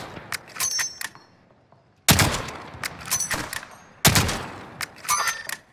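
Gunfire in the video game Call of Duty: Modern Warfare comes as three sharp, loud bursts about two seconds apart. Quieter clinks and ringing fill the gaps between them, and there is no talk.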